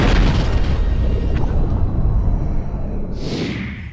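A huge animated dragon slams into the ground and explodes in a deep, loud, sustained boom that rumbles on, then trails off with a hissing whoosh at the end.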